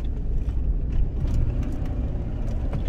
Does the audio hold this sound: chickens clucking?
no